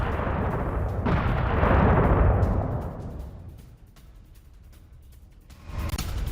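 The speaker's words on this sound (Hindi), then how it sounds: "ये तस्वीरें आप देखिए उस हमले की जहां पर बंकर बस्टर बम का प्रयोग किया गया है अमेरिका की तरफ से।" US bunker buster bombs striking a weapons depot: a heavy, rumbling blast swells loud, then slowly fades into a lingering roar, and a fresh burst hits near the end.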